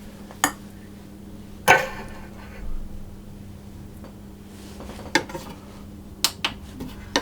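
Small metal ice cream scoop portioning oat and multiseed dough: scattered light clinks and scrapes against a bowl, about half a dozen sharp taps spaced irregularly over a quiet background hum.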